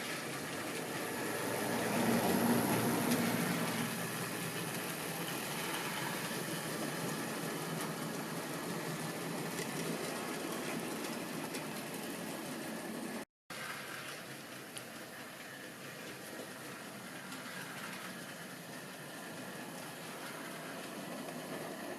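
A Hornby tender-drive model steam locomotive runs around a layout, giving a faint, steady electric motor whir and soft wheel rumble that stays even throughout, briefly cut by a gap, with no talking.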